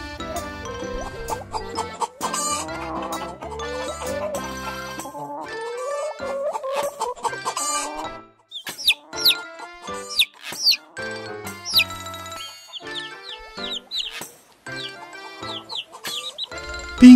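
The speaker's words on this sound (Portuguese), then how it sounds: "As galinhas são conhecidas pela postura de ovos, que é uma importante fonte de alimento em muitas" Chickens clucking and chirping among other farm fowl, a busy mix of short calls and squawks close by, with no talking.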